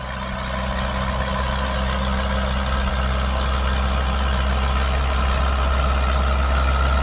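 Typhoon all-terrain vehicle with softened tyres crawling through knee-deep snow, its heavy engine droning steadily and loudly with a constant low rumble, no voices.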